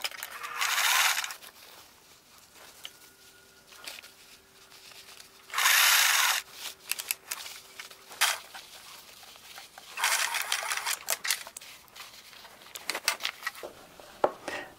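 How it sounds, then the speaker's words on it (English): A sewing machine stitches the waist of a pair of pants in three loud whirring bursts, each a second or two long, separated by quieter clicks and handling noises. "Let's sew this together."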